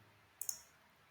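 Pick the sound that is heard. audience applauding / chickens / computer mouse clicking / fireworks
computer mouse clicking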